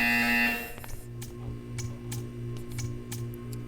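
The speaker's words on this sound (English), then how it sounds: "You will hear a buzzer." A game buzzer in Portal 2 sounds briefly at the start, a bright steady tone that cuts off, followed by faint ticking pulses over a low electronic hum.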